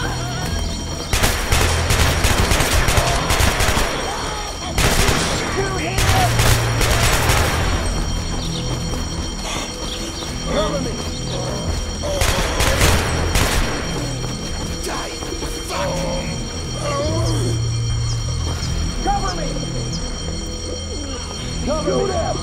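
Bursts of rapid gunfire crackle through Hatred gameplay, coming in loud volleys that start and stop over a long stretch. Shouting voices rise between the bursts, and a low rumbling background hangs underneath.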